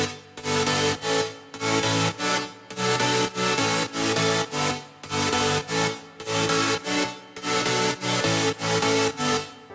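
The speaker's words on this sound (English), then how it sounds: "together the whole chord stack sounds like this" Future bass synth chord stack built from preset chords, a thick bright layered chord sound pulsing in steady rhythmic bursts with short gaps, loud and full, no voices.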